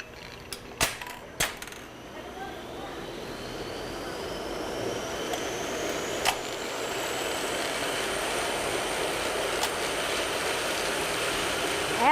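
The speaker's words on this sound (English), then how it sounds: "this machine is taking what they call a single ply, and I'm making this into a 3 ply" A wool-spinning machine plying single strands into three-ply yarn runs with a steady whirring hum that slowly rises in pitch, after a few sharp mechanical clicks at the start.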